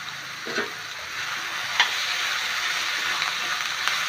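Pumpkin curry being stirred and sautéed with homemade black chilli powder and salt in a pan, a steady sizzle with a few soft spoon scrapes and knocks.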